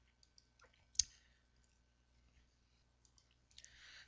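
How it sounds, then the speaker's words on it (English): A single soft computer mouse click stands out near the start, followed by a few faint clicks and light desk noises in an otherwise quiet room. "click the OK button"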